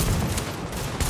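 Sustained gunfire from The Division on Xbox One, a dense, loud burst of overlapping shots and rattling fire that carries unbroken through the whole short moment with no voices over it.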